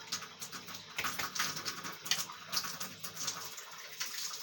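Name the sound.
tap water running while washing hands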